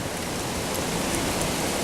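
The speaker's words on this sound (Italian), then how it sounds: "Questa è pioggia pulita." Rain from a spring storm in Quartu Sant'Elena, a steady, dense hiss of drops falling on surfaces, even and unbroken throughout.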